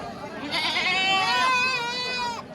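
Goats at a livestock market in Gopalpur, Natore bleat loudly and close by, several long wavering cries overlapping almost without pause, with market noise underneath.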